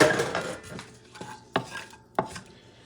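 Garlic chopped with a knife on a board, a few scattered cuts with two or three sharp, distinct knocks standing out near the end, close and clear with no talking.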